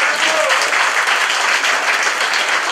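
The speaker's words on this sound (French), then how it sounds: "sous vos applaudissements." An audience at a 2014 municipal election list presentation in Martinique applauds, producing dense, steady clapping close by that carries on without a break.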